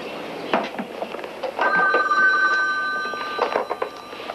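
A telephone rings in an indoor room, sounding in bursts of bell-like tones with short gaps between them, fairly close and alone, without talk.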